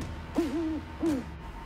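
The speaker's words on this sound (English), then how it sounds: "Owl." An owl gives two low, mellow hoots, the first longer and wavering, the second shorter, close and alone against faint background hiss.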